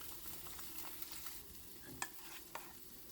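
Sliced bitter gourd (ampalaya) frying in a pan, a faint steady sizzle with light stirring scrapes and a couple of sharp utensil taps, quiet and close.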